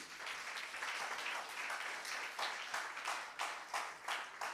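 Steady applause from a church congregation fills the whole stretch, dense clapping with a few louder swells, no voices on top.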